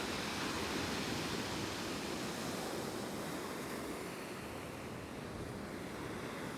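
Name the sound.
stormy Black Sea waves breaking on the shore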